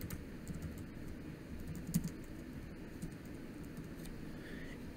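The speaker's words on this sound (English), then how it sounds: "We're going to type in hand in permission slip." Typing on a computer keyboard, heard as a quick run of light, close key taps over a low background hum, with no voices.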